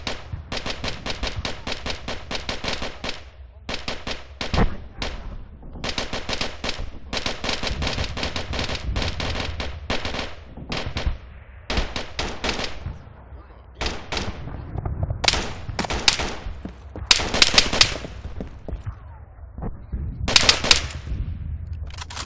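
Gunfire in the World War II game IFA3WarMod, long bursts of rapid machine-gun fire and scattered rifle shots rattling almost continuously, loud and close, with heavier cracks toward the end and little pause between volleys.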